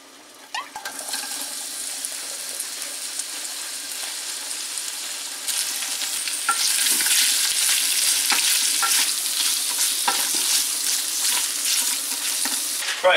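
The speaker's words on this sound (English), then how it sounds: "I'm going to use some of this garlic-infused olive oil just to brown this turkey and heat it up a little bit" Smoked turkey browns in garlic-infused olive oil in a pan, giving a steady, close, loud sizzle and crackle throughout that swells slightly partway through, with no talk.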